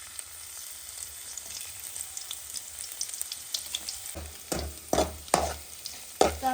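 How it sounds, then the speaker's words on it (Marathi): Garlic paste fries in hot oil with a soft, steady sizzle, then a few louder stirring scrapes and clanks in the pan toward the end. "थोडासा लसूण तेलामध्ये परतून घेऊ"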